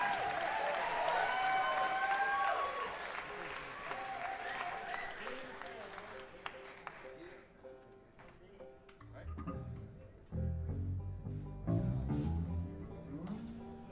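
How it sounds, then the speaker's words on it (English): A concert audience applauds with sustained clapping at moderate level over fading music, then a voice speaks while a bass and piano start playing underneath. "give a warm round of applause"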